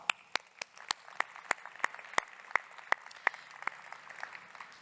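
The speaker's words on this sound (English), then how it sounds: "Give yourselves a round of applause." Sparse, scattered clapping from a small conference audience, individual claps spaced out over a quiet room.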